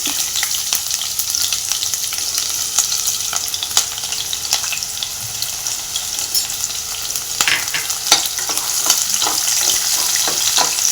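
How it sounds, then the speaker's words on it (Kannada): Finely chopped medium-size onions frying in hot oil for chole, browning with a bright, steady sizzle and crackle and occasional stirring scrapes, close and continuous, no voices. "ಇನ್ನೂ ಗೋಲ್ಡನ್ ಬ್ರೌನ್ ಆಗ್ಬೇಕು ನೋಡ್ಬೋದು ಫ್ರೆಂಡ್ಸ್ ಅಷ್ಟು ಈರುಳ್ಳಿ ಫ್ರೈ ಆಗ್ತಾಯಿದೆ"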